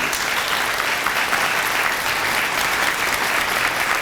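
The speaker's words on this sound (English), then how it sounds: "Give our teachers a round of applause," An audience at a leadership forum event gives teachers a round of applause, dense sustained clapping from a large crowd that stays loud and steady throughout.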